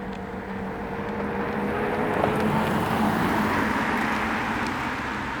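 A BMW 330e M Sport hybrid car driving along quietly, with a soft, steady hum and low rolling road noise at a constant moderate level, no engine roar.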